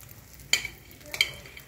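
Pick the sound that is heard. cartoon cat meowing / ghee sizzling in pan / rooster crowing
ghee sizzling in pan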